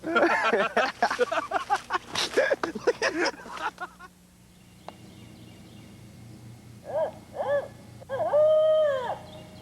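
A man imitates an owl's hoot with his voice outdoors on a turkey hunt, giving a few short hoots and then a longer drawn-out call near the end, after earlier talk between people.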